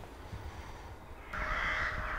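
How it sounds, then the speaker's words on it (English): Crows gather at their roost under a pale evening sky, and a loud, dense wash of cawing rises abruptly partway through, replacing a quieter spell of faint distant calls. "By now the crows are making a real racket."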